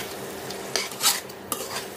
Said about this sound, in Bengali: আমি চিনিটা ভালোভাবে মিশিয়ে নিচ্ছি